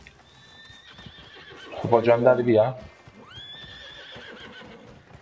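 Horses neigh in the Red Dead Redemption 2 game: a loud, shaky whinny bursts out mid-clip, while someone talks before and after it.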